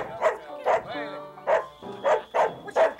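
A dog barks indoors in a radio-style drama of a Welsh Christmas, giving several close, loud barks in an uneven rhythm with short whiny yelps between them.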